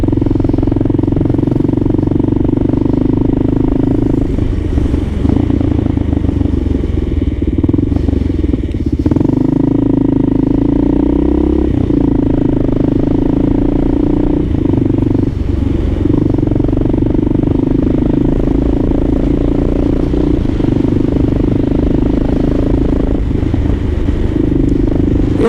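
A Kawasaki KLR650 motorcycle rides through downtown city traffic, its engine a steady close drone throughout with a brief change in pitch midway and occasional clatter and road scrape.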